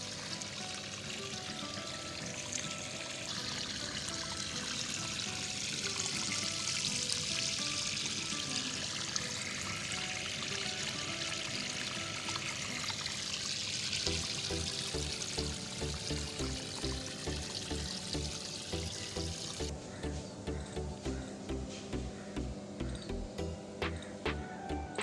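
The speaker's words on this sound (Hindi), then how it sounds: "अभी मैं गार्डन को पानी लगा रही हूँ।" Water from a hose pours steadily onto the soil of a kitchen garden planted with onions, a continuous close splashing and gurgling that gives way to a faster pulsing, rhythmic flow near the end.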